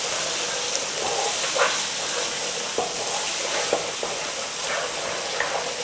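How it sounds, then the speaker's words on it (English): Onion paste frying with spices in a pan for chicken Madras makes a loud, continuous hissing sizzle, broken by a few soft scrapes and stirring knocks. "And then we're going to go in with that wonderful onion paste. Get that in there. So start to cook this in there with our spices."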